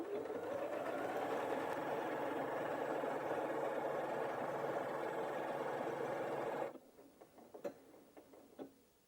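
A Janome 8200QCP sewing machine stitches a mirrored tulip pattern, its steady, fast mechanical whirr running loud and continuous for about seven seconds before stopping abruptly, leaving only a few soft clicks and taps.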